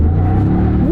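A V8 truck engine accelerates on a rough road, heard up close as a loud, low roar that climbs in pitch toward the end of a brief burst.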